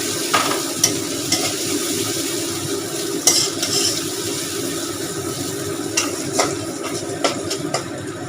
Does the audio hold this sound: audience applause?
no